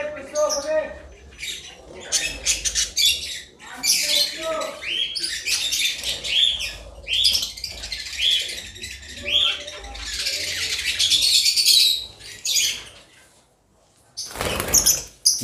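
A pair of lutino Fischer's lovebirds, a kind of African lovebird, chirp close by in dense, shrill bursts, with a brief pause before a final loud flurry.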